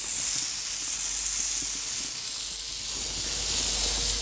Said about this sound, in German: Wo wir schon gerade dabei sind und hier stehen, können wir auch noch mal die Burgerbrötchen ein bisschen anrösten.